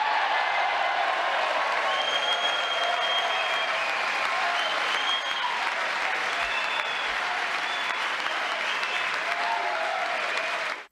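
Members of Congress applaud during Trump's address, a dense sustained wash of clapping that fills the hall evenly and holds for several seconds before cutting off abruptly.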